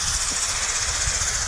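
Steam locomotive 1309, back under steam for the first time in 64 years on a Western Maryland Scenic Railroad run, gives a steady, loud hiss of escaping steam with a low rumbling undertone throughout, no voices.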